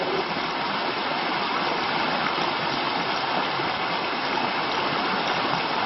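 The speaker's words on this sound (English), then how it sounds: "here we are at Blackwell Creek" Blackwell Creek on the Appalachian Trail in Georgia rushes in a steady, loud, broadband wash with no voices, close by throughout.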